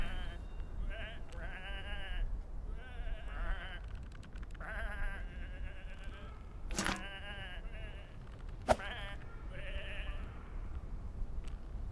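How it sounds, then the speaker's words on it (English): Several sheep in the video game Whateverland bleat repeatedly in short wavering calls, fairly close and clear over a low background hum, with a couple of sharp clicks between them. "these are just sheep"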